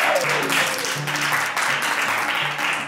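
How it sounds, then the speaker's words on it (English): Audience applause for a clown act at a clown training event in Warsaw, loud, dense clapping sustained throughout, with a faint musical tone running underneath. "Please your applause for Leo and Luigi Mogo"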